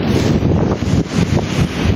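Strong wind by the sea buffets the microphone in a loud, continuous rumbling roar with gusty surges throughout.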